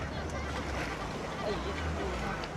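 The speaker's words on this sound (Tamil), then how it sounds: "இருபத்தஞ்சி ஹோஸ் பவர் கொண்ட போட் தான் இது" A 25 horsepower racing motorboat in a sea boat race sends out a continuous close roar of engine and rushing water, mixed with wind and faint voices.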